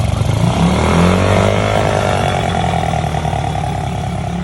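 Engine of a Honda-style Rapid motorcycle with a modified pipe, loud and close, rising and falling through revs with rough, sputtering low rumble and a whining sweep, no clear individual backfire pops standing out.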